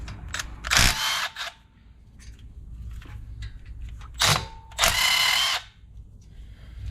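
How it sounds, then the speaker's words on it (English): A power tool whirs in short bursts while removing two 14mm caliper bolts from the front brakes of a Nissan Pathfinder, Frontier or Xterra, with quieter rattling between the loud close spins. "Now we're going to remove the caliper bolts here."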